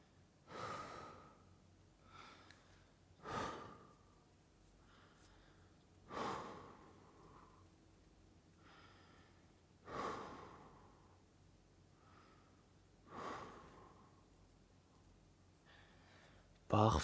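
Deep breaths during a forward-bending glute stretch in a prehab workout, five slow, evenly spaced inhale-exhale bursts with quiet gaps between them, close to the microphone.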